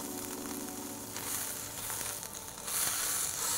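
Food browning in a hot pan while being turned with tongs gives a steady, fairly loud sizzle and hiss with no one speaking.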